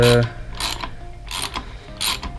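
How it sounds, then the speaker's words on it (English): A torque wrench fitted with a T50 bit ratchets a bolt in, with four distinct bursts of close, crisp clicking strokes and short pauses between them. "get our torque wrench with our T50 bit on it"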